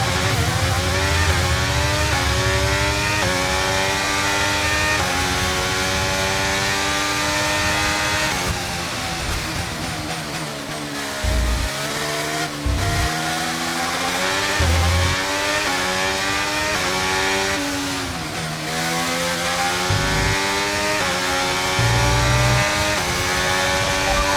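F1 race cars on track in the video game F1 23, with dense, continuous engine roar and shifting revs that rise and fall throughout, loud and unbroken.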